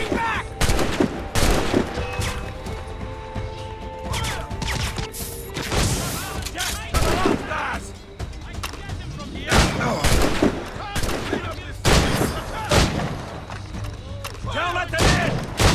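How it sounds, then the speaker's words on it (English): Gunfire exchange in Assassin's Creed Rogue, heavy repeated volleys and booming cannon-like shots at irregular intervals over about fifteen seconds, with shouting voices mixed in among the blasts. "Fire! They're shooting back!"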